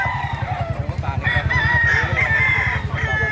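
At a busy native chicken market in Baliwag, Bulacan, many roosters crow and chickens cluck in a steady, loud overlapping din, with faint human voices mixed underneath.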